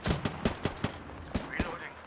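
Gunfire in the King's Canyon map of a battle royale shooter, a rapid string of sharp close shots in uneven bursts with brief gaps between them.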